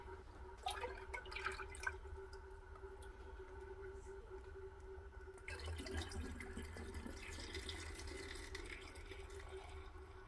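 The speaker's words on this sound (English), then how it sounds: "pour it into the bottle" Kombucha pours steadily through a funnel into a bottle, the gurgling fill changing tone as it rises, with a louder, fuller stream in the second half.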